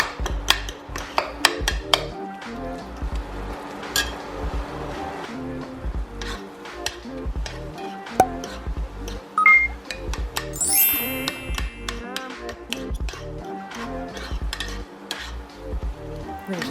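Ground meat being stirred in a pan with garlic powder and onion powder for homemade chili, a steady run of close utensil scrapes and clinks against the pan over a faint sizzle.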